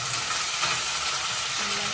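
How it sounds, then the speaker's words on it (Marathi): Ambade leaves hit a hot pan in a home kitchen and sizzle loudly, a dense, steady frying hiss with stirring noises and no talking. "आंबाडे घालून आवाज बघा"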